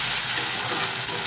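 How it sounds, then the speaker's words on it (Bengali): Onion and garlic fry for a red chicken curry, a dense, even sizzle close up and unbroken throughout. "এখানে পেঁয়াজ রসুনটা ভেজে নিচ্ছি"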